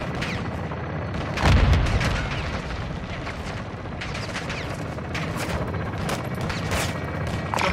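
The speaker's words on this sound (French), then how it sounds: "On essuie des tirs de mitrailleuses en bas de la tour." Sustained machine-gun fire from the Call of Duty: Modern Warfare II solo campaign, with rapid dense rattling and a heavy boom early on, staying loud and steady throughout.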